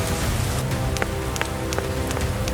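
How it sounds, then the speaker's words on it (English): Steady rain falls in a Peppa Pig cartoon, a continuous dense patter with scattered individual drop ticks throughout, fairly loud and without talk. "It starts to rain"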